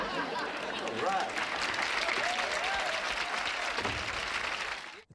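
Wild studio audience applause for Kramer's entrance on a Seinfeld taping, a loud continuous wash of clapping and cheering that fades out at the very end.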